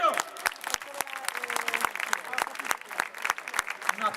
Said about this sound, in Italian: Vorrei che accoglieste con un applauso fortissimo e immenso il grande Antonio D'Ausilio